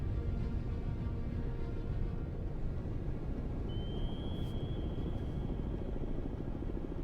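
A helicopter hovers overhead in the submarine game Cold Waters, its steady, loud rotor rumble continuing without a break, and a thin high tone sweeps in partway through.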